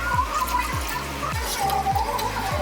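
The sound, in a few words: pouring rice water into cooking greens soup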